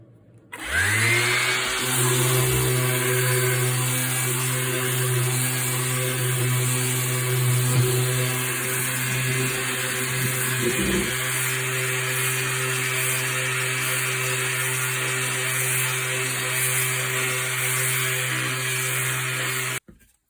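A steady, loud orbital sander drones continuously on a wooden gun stock for nearly twenty seconds, a constant whirring hum with a high buzzing edge and no talking.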